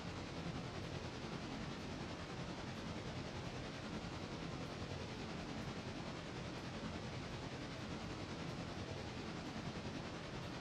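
A Santa Fe steam locomotive hauling roughly 2,200 tons of freight up a grade in the game Railroader, a steady, faint, broadband rumble and hiss of the moving train.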